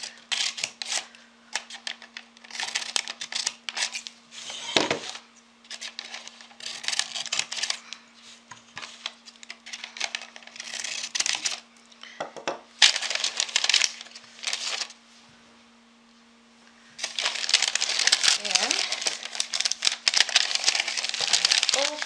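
Scissors snip and a liner crinkles while the corners of a mold liner are cut, close and busy with short clicks and rustles, a brief quiet pause near the end, steady hum beneath.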